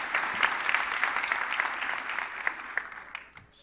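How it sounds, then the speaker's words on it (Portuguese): Church congregation applauding after a baptism, a sustained round of many hands clapping at moderate distance, easing off near the end. "Uma salva de palmas."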